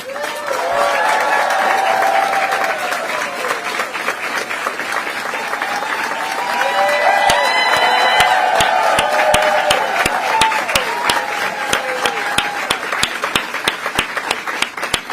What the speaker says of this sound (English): Do you hear this clapping?